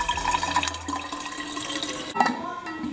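Water running from a tap into a bottle while getting ready to exercise at home during quarantine, a continuous close splashing gush with a rising fill tone and a brief clunk near the end, no voices.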